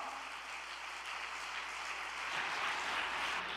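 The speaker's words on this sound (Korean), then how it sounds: "우리 감사와 격려의 박수를 올리면서" A gathering claps in thanks and encouragement at the end of a Korean lecture report. The sound is a soft, distant, continuous wash of applause that swells slightly toward the end.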